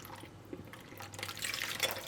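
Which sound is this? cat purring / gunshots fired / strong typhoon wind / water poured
water poured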